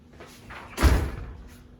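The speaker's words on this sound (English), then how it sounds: "my door's opening up here" A door opens and shuts indoors, with a short scrape and then a single solid thump, brief and close, against a quiet room hum.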